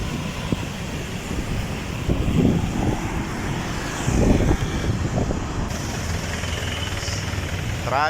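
Mixed road traffic on a city street near the Polo River in Valenzuela, with a steady rumble of engines and passing vehicles that swells twice, plus brief horn-like tones near the end.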